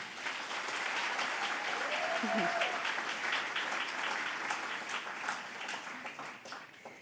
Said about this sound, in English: Please give a round of applause to them one more time.